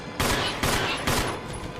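Gunfire in the Resident Evil video game, three sharp, loud shots in quick succession, each ringing out briefly before the next.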